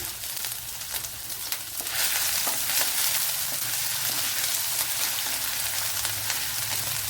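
Crushed garlic and ginger sizzle in hot coconut oil, a dense crackling fry that swells louder partway through as the pieces hit the pan and are stirred, close and continuous with no voices.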